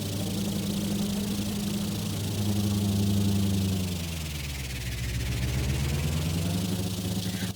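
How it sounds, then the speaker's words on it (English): Boat engines in the game Stormworks run at maximum rotations per second, a loud, steady, throbbing drone with a deep pulsing rumble that shifts slightly in pitch and continues throughout. "as you guys can tell from the sound of the engines"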